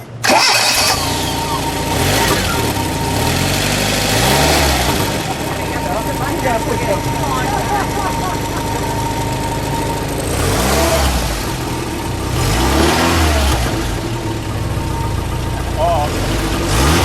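A 1979 Fiat X1/9 survivor engine cranks and catches, then revs up and down in several loud swells before settling to a steady idle, with people talking nearby.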